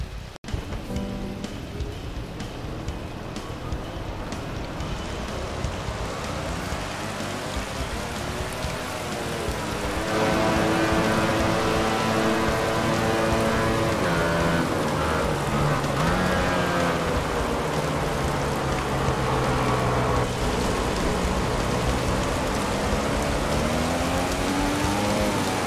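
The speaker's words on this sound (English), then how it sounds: "The rain..." Rain falls steadily at the Phillip Island circuit in a MotoGP racing game, a continuous broadband hiss that thickens partway through as engine-like tones rise beneath it.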